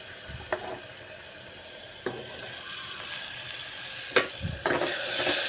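Ration rice boiling in a pot on a home kitchen stove, a steady low bubbling simmer that grows slightly louder, broken by a few sharp clicks and knocks.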